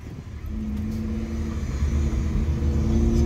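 A Camaro ZL1 and a Nissan GTR R35 racing and accelerating, heard as a steady low engine rumble that builds slightly over a few seconds, fairly distant and without talk.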